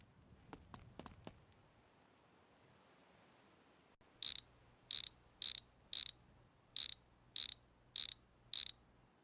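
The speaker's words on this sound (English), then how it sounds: "We need a wrench." A wrench ratchets on a truck in a garage, with a few faint clicks early on, then eight loud, evenly spaced bursts of rapid clicking up close.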